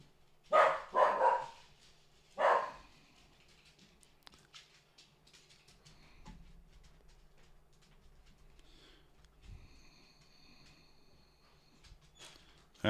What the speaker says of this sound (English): Maxie, why are you barking?